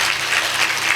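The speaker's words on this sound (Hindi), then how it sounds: "ताली हो जाती है।" Brief burst of dense, steady clapping from a church congregation at a Prabhu Bhoj meeting, loud and close, with no voices standing out.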